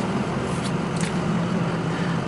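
A 2006 Ford F250 King Ranch FX4 with a 6.0 diesel engine runs on a cold morning, heard as a steady, low rumbling drone with road noise, continuous and moderately loud.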